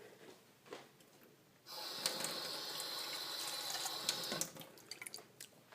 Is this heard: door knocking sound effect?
no